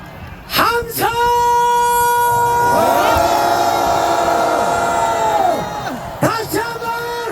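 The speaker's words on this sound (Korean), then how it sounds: "함성!" A large crowd at an anti-impeachment rally on the plaza at Dongdaegu Station roars with cheers, whoops and sustained shouting. The sound is loud and close, swells into a long rising chorus, then fades out.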